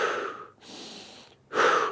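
A person breathes audibly during a CrossFit warm-up, taking a nasal inhale and then a stronger exhale through the mouth. The breaths are close, soft and unhurried, and no one speaks.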